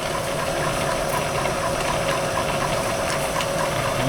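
A vertical mill in a lab hums steadily at close range, a continuous mechanical drone with faint ticking as cutting fluid is added. No one speaks.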